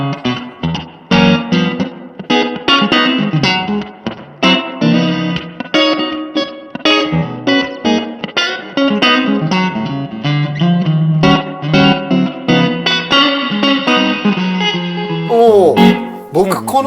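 An electric guitar is played through a True Spring spring reverb pedal, with chordal phrases and single notes that ring out with a springy, splashy tail, loud and up close. A short pitch bend comes near the end.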